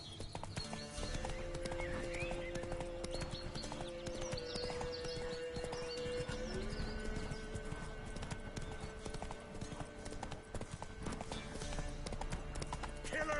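Horse hooves clip-clop in a steady rhythm, faint and somewhat distant, under a constant background noise with a brief whinny-like tone.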